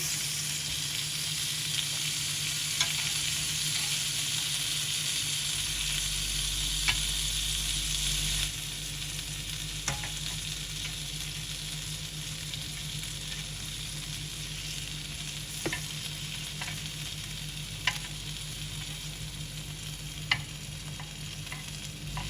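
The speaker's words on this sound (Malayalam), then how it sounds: "ഇനി വീണ്ടും നമുക്ക് ഗ്രില്ല് ചെയ്തെടുക്കാം" A spicy salmon fillet grills in a pan with a constant, close sizzle, broken by scattered sharp clicks and a low hum partway through, with no talking.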